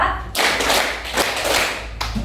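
A class performs a counted rhythmic clapping routine, giving loud close bursts of claps in a steady beat with short gaps between the groups.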